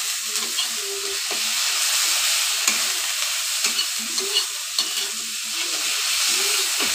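A pan sauté with turmeric stirred in hisses steadily up close. Soft scraping strokes of a stirring spoon recur throughout, and no one speaks.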